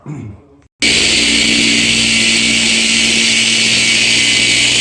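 A power polisher buffs the paint on a 1970 Chevelle SS. It starts abruptly after a brief quieter moment, then whirs loud and steady at close range with a constant high whine.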